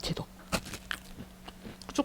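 Someone bites and chews crispy fried food with a cheese filling, giving a few sharp crunches and soft chewing close to the mic, with quiet speech-like sounds between them.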